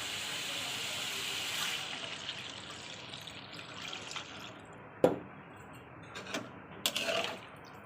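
Water is poured into a pan of vegetables frying in oil, giving a rushing, hissing splash that tapers into a softer sizzle, broken by a few sharp clinks near the end.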